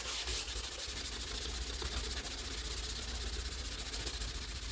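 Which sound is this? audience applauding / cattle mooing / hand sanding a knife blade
hand sanding a knife blade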